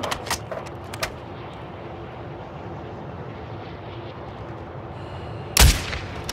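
Gunfire in a multiplayer shooter game, a few scattered shots early over a steady engine-like drone, then one loud sharp report near the end.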